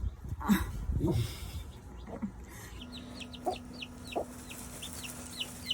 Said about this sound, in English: the chicken starts stirring it up again with her dust bathing over here